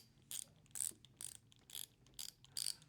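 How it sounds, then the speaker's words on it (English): A Wurth bit-driven ratchet clicks in six quick, evenly spaced bursts of sharp pawl ratcheting, close and clear over a quiet background. "now you're just ready to start ratcheting"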